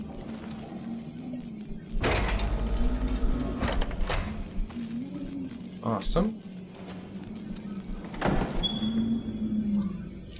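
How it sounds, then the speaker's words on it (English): A door unlocking and sliding open in the video game Paradise Lost, a brief mechanical whoosh rising around the two-second mark amid the game's ambience, with someone talking over it. "Unlock door."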